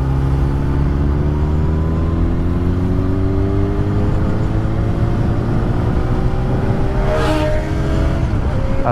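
A car overtakes very close beside a moving motorcycle, a brief rushing whoosh rising over the bike's loud, steady engine drone near the end.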